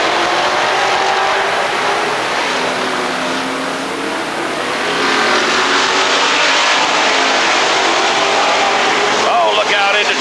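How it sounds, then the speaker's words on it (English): Race cars roar continuously around the Rockford Speedway oval during 1999 Bahama Brackets racing, a loud, dense engine wash with a voice talking over it. "Number 1 car moves down into the lower groove to challenge for the lead."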